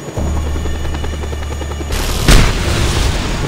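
Helicopter rotor drone in the Just Cause 2 video game runs steadily, then a loud explosion bursts about two-thirds through, followed by rumbling debris and continued engine noise.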